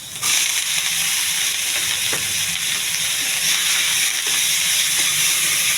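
Bottle gourd pieces with green chillies and ginger-garlic paste fry in a pan, giving a steady, close, loud sizzle with a soft hiss and a few light stirring knocks throughout, with no talking.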